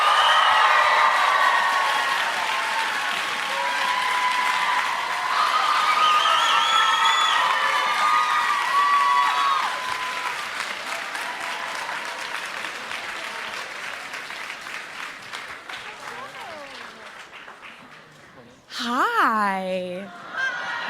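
A large audience breaks into loud, sustained applause and cheering as Taylor Swift is welcomed onstage. The clapping thins over time, and a few voices and whoops rise above it near the end.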